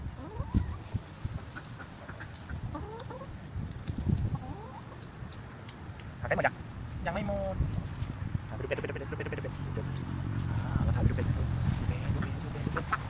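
Chickens cluck and murmur nearby in short repeated calls, with someone talking over them and some rustling movement.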